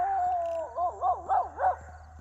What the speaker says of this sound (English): I honestly don't know how much more of this dog I can take